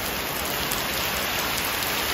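Heavy steady rain pours down on a hot summer day, a loud dense wash of noise with no pauses and no voices.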